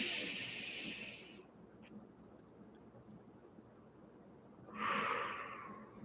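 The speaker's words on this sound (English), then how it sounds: "just another nice big deep breath in" Deep breath drawn in during a guided relaxation session: soft, airy hissing inhales, one at the start and another near the end, quiet and close with near silence between.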